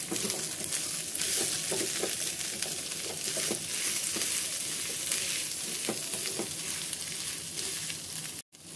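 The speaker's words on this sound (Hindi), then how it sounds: "अब इन सभी चीज़ों को अच्छे से मिक्स कर लेना है" A spiced potato mixture being stirred in a pan on the stove gives a steady, soft sizzle with faint scraping as it is mixed, constant and moderately quiet throughout.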